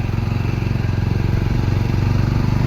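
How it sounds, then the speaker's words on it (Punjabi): A motorcycle engine running steadily at low revs in first gear, a close, continuous rhythmic putter with a deep throbbing pulse and no voices. "ਮਾਰਾ ਮੋਟਰਸਾਈਕਲ ਤਾਂ ਬਾਈ ਪਹਿਲੇ ਗੇਅਰ ਮੈਂ ਹੀ ਚੱਲ ਰਿਹਾ"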